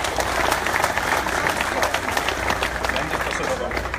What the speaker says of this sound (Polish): Wielkie brawa dla Szymona